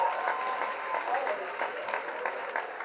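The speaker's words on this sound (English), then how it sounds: "So huge round of applause, guys." Crowd applause at a Swachh Bharat cleanliness event with the A Flying Jatt film team, a steady, moderately loud patter of clapping with some voices mixed in throughout.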